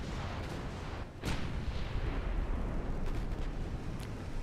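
Warship gunfire in the naval battle game Ultimate Admiral Dreadnoughts: a dense, rumbling barrage of booming shots and distant blasts that rolls on continuously, with one sharper report standing out early.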